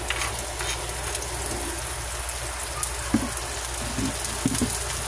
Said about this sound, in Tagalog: Magsatay na tayo ng bawang sibuyas.